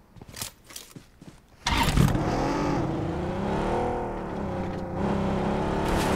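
Motorbike engine in a battle-royale shooter game starts up abruptly and settles into a loud, steady drone with slight pitch wavering, after a few scattered game noises beforehand.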